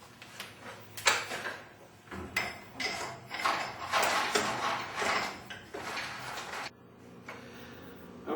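Set screws being tightened on the spring drums of a garage door torsion spring, heard up close as a run of small metallic ticks, clicks and ratchet-like turns that keep going through the whole stretch.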